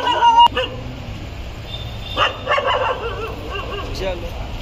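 Stray dogs at a street feeding bark in short, sharp bursts at medium distance, scattered over a noisy outdoor background with other animal cries mixed in.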